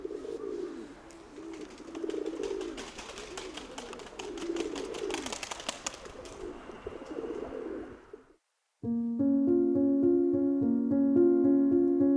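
A steel-coloured pigeon hen in a dovecote coos in steady, soft, rhythmic phrases for about eight seconds, then a short gap gives way to a bright, steady tonal sound.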